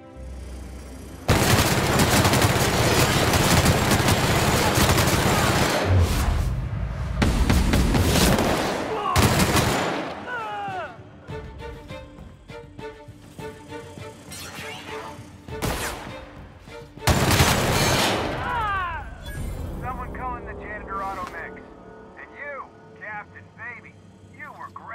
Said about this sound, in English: She's really shooting!